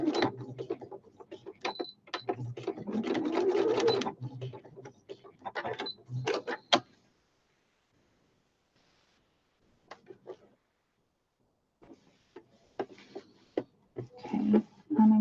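A home sewing machine runs a straight stitch through fabric and batting in bursts of rapid mechanical whirring and ticking, stopping into silence for several seconds before short clicks and another whirring run.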